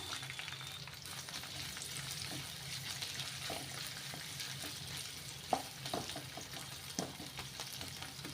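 Sliced onions frying in oil with fennel seeds, a steady close sizzle and crackle with occasional stirring scrapes, no talking.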